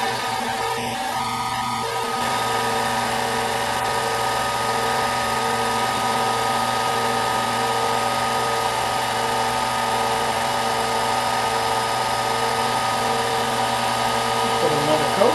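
A wood lathe spins a Celtic knot pen blank finished with CA coats while plastic polish is applied, giving a loud, steady whirring hum with even tonal harmonics that runs unbroken throughout.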